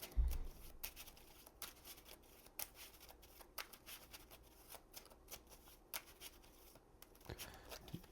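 Playing cards from a Marvel Champions deck are shuffled by hand in quick, soft riffles and taps, close and quiet, with no talking.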